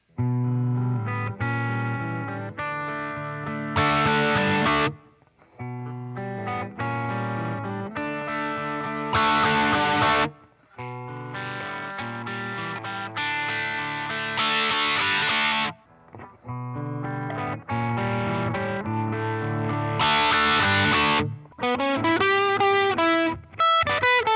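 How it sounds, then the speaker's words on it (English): Electric guitar played through overdrive and distortion pedals in a series of short repeated phrases and chords, loud and close, with brief silences between passages. "I'll play the pedals again to see if you can hear the differences between them."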